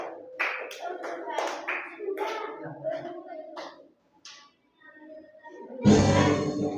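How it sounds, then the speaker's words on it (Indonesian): Children sing along in a classroom. A short, loud burst of hand clapping breaks in near the end after a brief pause. "Sambil tepuk tangan."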